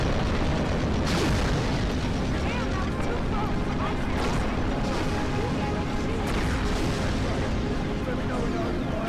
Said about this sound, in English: Even Mother Nature makes an appearance through the powerful display of a volcanic eruption